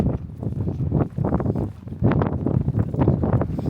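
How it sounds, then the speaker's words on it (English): Wind gusts buffet the microphone beside an airport runway in a British overseas territory in southern Europe, a loud uneven rumbling roar that rises and falls without pause. "I think we're going to go up because it's windy down here"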